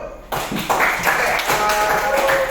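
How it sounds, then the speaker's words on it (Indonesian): A class of students in an Indonesian classroom claps together in a close, loud burst of quick hand claps, with some voices mixed in. "Oke, tepuk tangan dulu."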